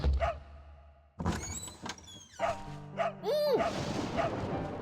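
A puppy in the horror game Echo Night 2 gives several short barks and yips amid thuds and a sliding-door sound, close and clear with no talk.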